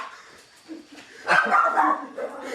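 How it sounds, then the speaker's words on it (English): A dog barks in a podcast studio, giving a few short, fairly loud barks in the second half of the clip while people talk around it. "Why is your dog here?"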